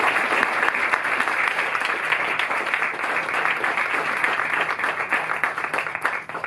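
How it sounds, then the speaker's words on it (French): Crowd applauding at a bookstore author event in Paris, with steady dense clapping that holds at an even level and thins slightly at the end. "Bernard Savoyard aussi, vous pouvez l'applaudir."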